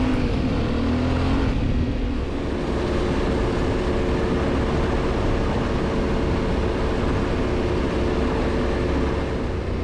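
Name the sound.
adventure motorcycle riding onto sandy forest road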